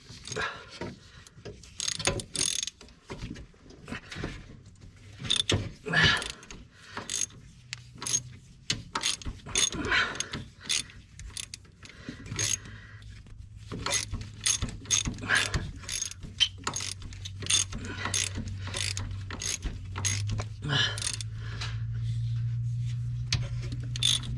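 A ratchet wrench clicks in quick bursts while loosening a bolt on a 7.3 Powerstroke diesel truck, close and fairly loud, with pauses between strokes, other faint mechanical rattles, and a low steady hum building toward the end.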